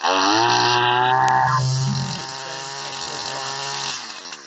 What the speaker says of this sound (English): Got a weed whacker here, so I'm gonna start it.